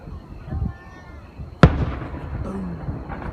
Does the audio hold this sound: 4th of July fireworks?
yes